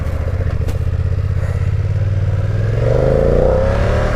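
A BMW F 900 R motorcycle engine idles with a steady low rumble, then revs up and pulls away, the pitch rising near the end.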